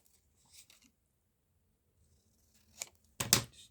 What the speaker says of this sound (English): We've got our herb, which I'll just trim down a little.